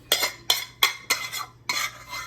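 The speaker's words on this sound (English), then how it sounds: "So we're gonna spread the rice here on the platter." Rice being spread onto a serving platter with a utensil while plating a braised pork leg Sunday dinner: five or six short scraping, clinking strokes in an uneven rhythm, close and fairly quiet, with no talking.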